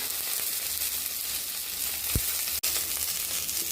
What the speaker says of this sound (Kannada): ಈಗ ಕರಿಬೇವನ್ನು ಹಾಕ್ತಾ ಇದ್ದೀನಿ. ಹಾಗೆ ಹಸಿಮೆಣಸಿನಕಾಯಿಯನ್ನು ಹಾಕ್ತಾ ಇದ್ದೀನಿ.